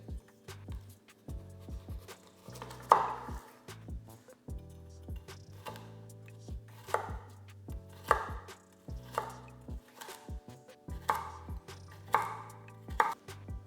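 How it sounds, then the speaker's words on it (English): A knife chops a carrot into small pieces on a board, firm rhythmic thuds in irregular bursts close up, with faint background music running underneath. "I start to cut the carrot in small pieces."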